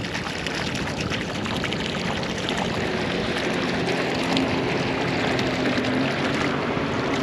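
Water is pumped out of a jet ski's hull by a newly installed bilge pump, a steady broadband rushing and splashing stream that runs continuously and close by with no talk over it.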